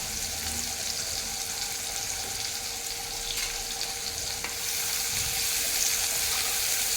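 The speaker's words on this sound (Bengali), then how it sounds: "এই তেলের মধ্যেই এখন দিয়ে দেবো বেশ খানিকটা পেঁয়াজ কুচি" Chopped onion and a small bay leaf fry in plenty of oil in a wok, giving a steady, dense sizzle close by that continues without pause and grows slightly louder near the end.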